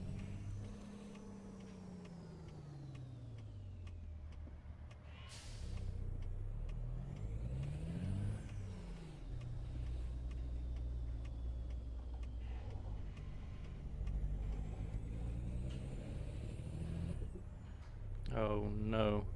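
Truck engine droning and rising in pitch as it accelerates and shifts gears while driving in American Truck Simulator, steady and close throughout with someone talking over it.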